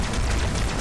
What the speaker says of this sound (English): how about you shoot it? Just shoot it.